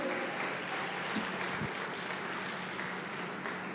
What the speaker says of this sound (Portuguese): Dê uma salva de palmas ao Senhor e glorifica Ele.